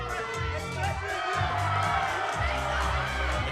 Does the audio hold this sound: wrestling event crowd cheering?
yes